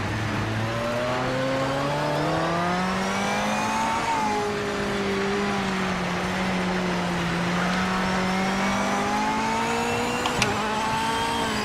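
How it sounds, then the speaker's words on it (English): A race car engine in a sim racing game drives on a wet track with the wheels spinning. It makes a loud, continuous harmonic drone whose pitch dips and climbs with revving, alone throughout, with a sharp click near the end. "You want to feel the wheel spin."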